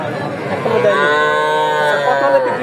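A cow moos loudly and close by at a cattle market where heifers are sold, one long drawn-out call holding steady for most of the moment, with faint crowd murmur in the background.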